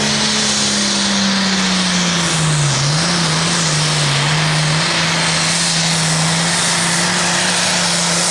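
A loud, steady pulling-tractor engine roar drones throughout at a tractor pull, 640 cubic inches under the hood, its pitch dipping slightly midway then holding, heavy and continuous under load.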